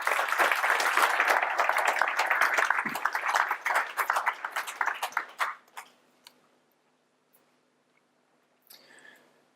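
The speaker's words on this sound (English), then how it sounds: "A big round of applause to Lewis Parsons." An audience applauds Lewis Parsons, with lively clapping that holds for several seconds, thins into a few scattered claps and fades to near silence, then a brief stir of sound.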